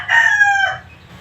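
A single rooster crows once, a short close and loud call with a bright strained tone that trails off quickly.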